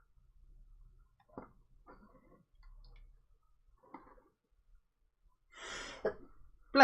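A sharp, breathy sneeze bursts out near the end of a quiet model-painting session, followed by a second loud blast right at the close, after soft scattered murmurs.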